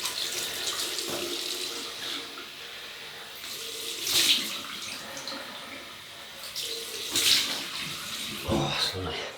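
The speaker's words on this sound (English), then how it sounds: "We'll have a cold water rinse." A bathroom tap runs cold water for a rinse after a razor shave, a steady close gush that swells and splashes as hands move under the stream.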